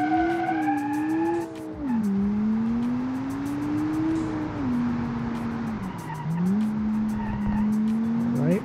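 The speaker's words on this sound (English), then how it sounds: "we have a 400 horsepower inline 5 engine turbo" A 400 hp turbocharged inline-five in an all-aluminium rear-wheel-drive car in BeamNG.Drive revs loudly up and down, with sharp tire squeals and skids as it drives hard and close throughout.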